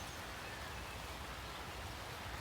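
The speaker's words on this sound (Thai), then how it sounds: "ฝนมันตกมันมืดจ้ะ" Steady rain falls on a vegetable garden of Thai kale, giving a dense, even hiss that stays constant and fairly soft throughout, with no talk or other distinct sounds standing out.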